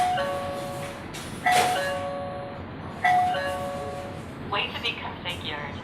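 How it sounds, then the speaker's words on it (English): A smart wireless doorbell sounds its chime after the button is pressed, ringing three times as short, bright, bell-like tones at about 0–1.5, 1.5 and 3 seconds. A higher, trilling tone follows near the end, and the room is quiet apart from a faint background hiss. "Press the doorbell button."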